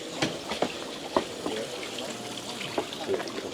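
Water runs and splashes steadily from an ore-washing spray bar at a mine in Devon, with a few louder spattering bursts rising over the continuous wash.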